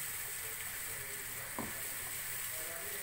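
Onion-and-spice masala for a beef kofta curry fries in a pan with a soft, continuous sizzle, quiet and even throughout, with one faint stirring scrape partway through.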